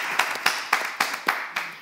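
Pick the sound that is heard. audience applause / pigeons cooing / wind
audience applause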